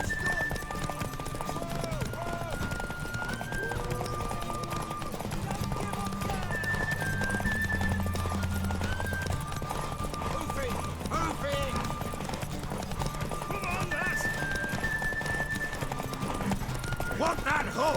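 Horse hooves clip-clop at a steady trot with a neigh or two, under game music and a talking voice, in The Witcher 3: Wild Hunt.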